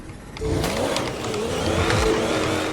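A powerful Vision supercar engine revs up and holds a loud, rising roar with rough harmonic texture, close by and continuous for a few seconds.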